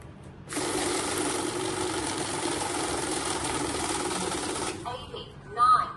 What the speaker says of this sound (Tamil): இந்த மாதிரி எத்தனை கட்டு நீங்க போட்டாலும் அதோட சேர்த்து உங்களுக்கு கவுண்ட் பண்ணி ஆட் வந்து எவ்வளவுங்கிறது உங்களுக்கு சொல்லிடும்